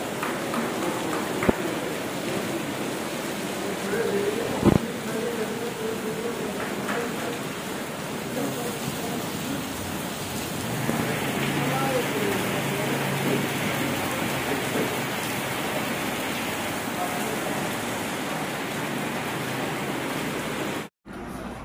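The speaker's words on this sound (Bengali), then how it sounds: "আবার নেমেছে মুষলধারে বৃষ্টি, দেখুন পুরো সাদা হয়ে গেছে" Heavy rain pouring down in a dense, constant roar, loud and close, with a couple of sharp knocks early on.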